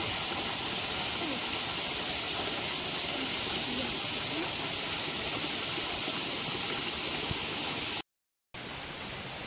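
Steady rushing water pours from a stone village water spout (dhara) as it is being cleaned, a dense continuous splash close by that cuts out briefly near the end before resuming.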